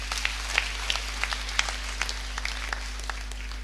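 A church congregation at a Kikuyu service claps, a steady run of sharp, distinct claps at a moderate pace, fairly faint against a constant low electrical hum.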